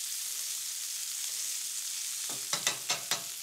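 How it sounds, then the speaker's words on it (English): Red mullet sizzles in a hot pan with a steady, close hiss, and a few sharp knocks from a spatula or pan ring out near the end, with no one talking. "the residual heat in that pan will finish the fish off"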